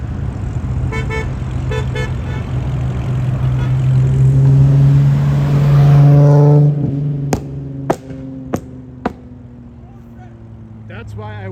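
A car revs hard on a Florida street, its engine rising to a loud sustained roar, then dropping away before a few sharp pops and bangs ring out over background noise.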